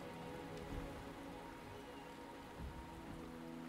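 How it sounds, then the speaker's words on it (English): Steady rain falls in the video game Wuthering Waves, a dense continuous patter on surfaces with low tonal background music underneath and no voices. "The rain is subsiding, and the sky will soon clear."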